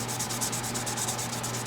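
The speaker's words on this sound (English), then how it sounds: "Anytime you're polishing frets or sanding frets" Martin 794 RSW Grand Performance acoustic guitar frets being polished and sanded, a soft rhythmic scrubbing of about a dozen quick back-and-forth strokes, close and faint.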